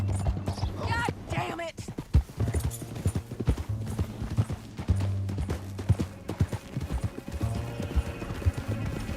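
Horses galloping hard through a canyon, a dense run of clip-clop hoofbeats with a horse whinnying near the start, under a low rumbling score and shouted voices.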